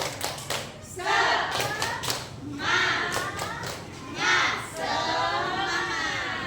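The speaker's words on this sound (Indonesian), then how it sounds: "Oke, tepuk semangat." A classroom of pupils performs a rhythmic spirit clapping chant, bursts of loud group claps alternating with chanted voices in a close, boisterous room.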